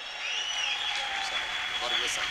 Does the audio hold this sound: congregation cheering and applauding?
yes